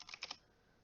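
A few quick keystrokes tap on a computer keyboard, three light clicks in under half a second followed by quiet room tone.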